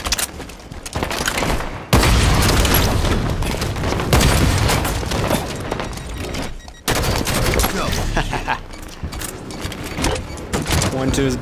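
Rapid bursts of rifle fire and booming explosions from a Halo 5 big team battle match, loud and nearly continuous, with a player talking over the din.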